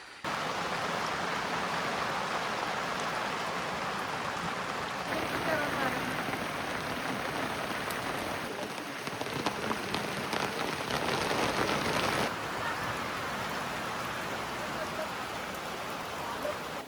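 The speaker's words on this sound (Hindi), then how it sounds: "बारिश बहुत तेज़ है" Heavy mountain rain pours down steadily as a dense, loud hiss on surfaces nearby, unbroken throughout, with faint voices now and then beneath it.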